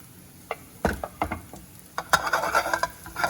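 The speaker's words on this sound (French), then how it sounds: "Je rajoute le tempeh, les amis." Tempeh added to a pan with a good amount of oil: scattered knocks and taps of pieces landing and being moved, followed by a rising crackly sizzle, close and moderately quiet.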